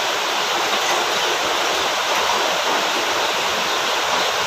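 Water pours steadily from a hot water bag into a glass, a loud continuous splashing rush close by with no speech.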